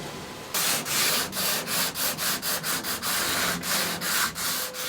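Hand sanding scuffs the fiberglass surface of a Reimo hightop for a Vanagon Westfalia, a close, steady series of rhythmic rasping back-and-forth strokes, about a dozen in quick succession.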